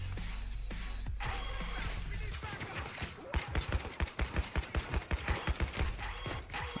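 Rapid bursts of gunfire in the heist video game Payday 2, a dense fusillade of sharp, loud shots building into a fast irregular rattle after a rumbling opening.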